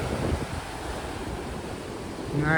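Steady rushing wind at Mastram Dhara Beach, blending with surf noise, moderately loud and continuous, swelling slightly near the end.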